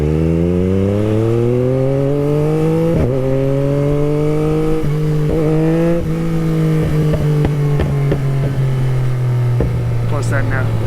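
A 2021 Yamaha MT-09 with an updated aftermarket exhaust growls steadily while riding, a close, loud drone that rises gradually, with a sharp gear-shift dip and throttle blips toward the end.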